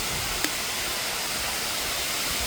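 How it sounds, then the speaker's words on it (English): Steady, broad rushing of a waterfall outdoors at night on a university campus, a continuous even wash of water noise with one faint brief click near the start and no talk. "Waterfall."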